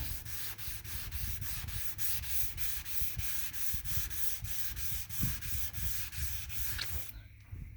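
A hand sanding block rubs back and forth over guide coat on a Corvair car body panel, about twenty even, rhythmic close strokes, then stops.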